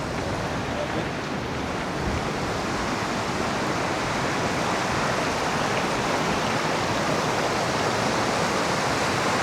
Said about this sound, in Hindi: ये काफ़ी ऊंचाई से आ रहा है पानी